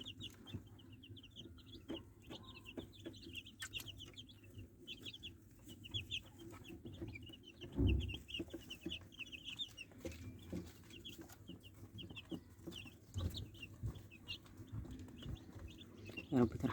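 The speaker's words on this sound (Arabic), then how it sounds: "الفراخ بتاعتنا البيضه برضو العشرة اللي انا جايباهم وسطهم" Baladi chickens cluck and chatter continuously in a farm coop, several hens close by with overlapping calls, a louder squawk or two, and a faint low voice in the background.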